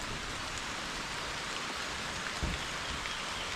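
Steady rain keeps falling outdoors, a soft, even hiss of drops on surfaces at low volume throughout, with no voices.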